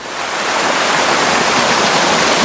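A natural waterfall at Tapovan pours with a dense, steady roar, loud and close, and no voices break through it.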